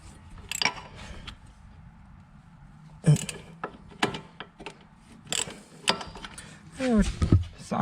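A socket ratchet works a 10mm bolt on a car's wheel hub area, giving irregular bursts of clicking and metallic rattles up close, with a few quieter pauses between them.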